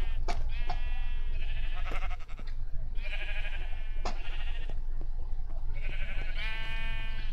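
Minecraft sheep bleat in repeated nasal baas, three or four distinct calls spaced a second or two apart over a steady low background hum, close and fairly loud, with no voices.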